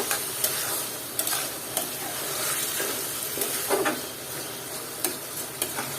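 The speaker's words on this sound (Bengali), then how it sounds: "আর এখন দিয়ে নিলাম আলু আর এটাকে দিয়ে আমারও নেড়ে চেড়ে নিব" Potatoes with jackfruit seeds and shrimp fry in a pan under a soft, continuous sizzle, punctuated by irregular stirring scrapes and clinks from a spatula, close and moderately quiet.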